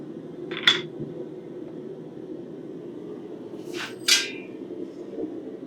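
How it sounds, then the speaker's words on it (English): A blacksmith striking metal with a two-pound hammer, two sharp ringing clanks a few seconds apart over a steady low hum of shop noise. "I think I'm going to switch to my 2-pound hammer."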